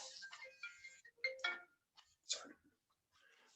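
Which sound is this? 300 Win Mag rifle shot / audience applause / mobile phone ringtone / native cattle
mobile phone ringtone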